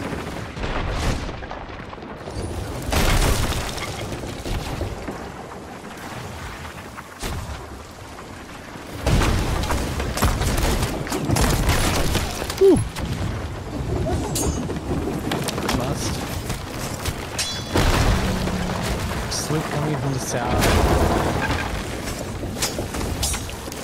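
Cannon and gun shots in a pirate ship battle in Sea of Thieves, heavy booms and sharp blasts recurring irregularly over rushing sea and ambient noise, with someone talking at times.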